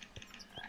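A toad croaks twice in a Minecraft Harry Potter mod, two short, faint low calls spaced about half a second apart against quiet game ambience.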